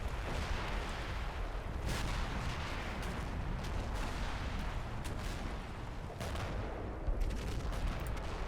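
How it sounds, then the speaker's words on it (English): Artillery fire in the Combat Mission wargame rumbles continuously, a dense wash of distant booms and cracks layered over one another at a steady, moderately loud level. "The artillery continues."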